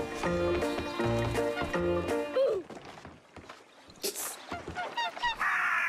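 A goose in a video game honks in a rapid run of loud, nasal calls, followed by sharp crash and impact thuds and scattered short squawks that taper off.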